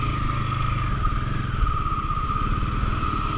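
Royal Enfield Himalayan 450 motorcycle engine on a test ride, a steady throbbing pulse with a constant hum, held at even loudness throughout without talk.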